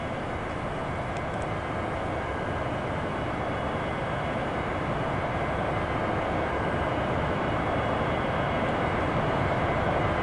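A jet idles on the taxiway in the A2A Cessna 172 flight simulator, producing a continuous, broad engine roar at moderate level that holds steady throughout.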